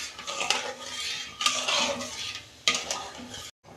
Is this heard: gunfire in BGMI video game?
no